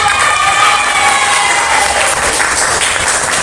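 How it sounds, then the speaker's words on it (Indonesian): A classroom group applauds and cheers, steady dense clapping with bright, continuous crowd noise filling the whole stretch, loud and close. "tepuk tangan"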